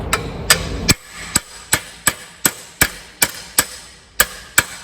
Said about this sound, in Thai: เราจะใช้ตัวค้อนนะฮะตอกลงไป